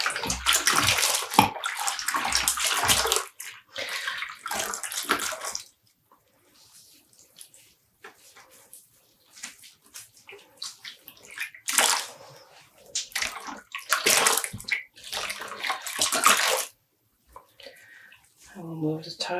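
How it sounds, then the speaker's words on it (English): Tweed yarn dunked by hand into water for dyeing, giving bursts of sloshing and splashing in the first few seconds and again later, with quieter dripping and handling in between. "it helps dunking them a bit in water like this"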